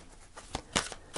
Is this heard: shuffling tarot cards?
yes